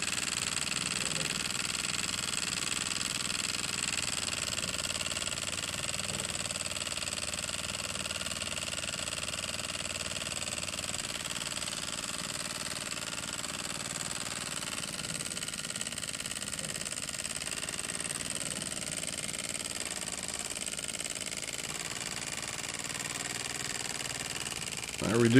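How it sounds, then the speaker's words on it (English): A miniature beam steam engine, fired from below, runs at a steady, slightly fast pace with a continuous hum and whir at moderate level, mixed with faint background noise. "This is actually running a little bit faster than what I would care for."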